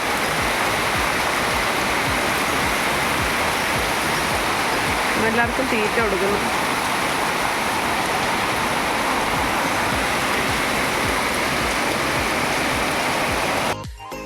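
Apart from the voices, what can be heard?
heavy rain pouring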